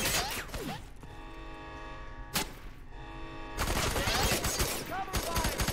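Suppressing gunfire in a video game, a prison-break raid: sustained loud bursts of automatic fire at the start and again through the final seconds, separated by a quieter stretch with a single sharp crack.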